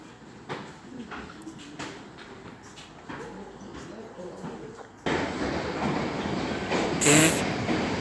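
At Gillingham railway station a train passes, quieter wheel clacks at first, then a sudden louder, denser rush of rolling noise partway through, with a brief high squeal near the end.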